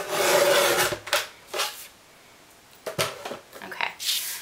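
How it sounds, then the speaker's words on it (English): Card stock being cut for a scalloped edge card, giving short scraping, rasping strokes in several separate bursts with quiet gaps, close and moderately soft. "take this all the way to the 5-inch mark and then do my cut"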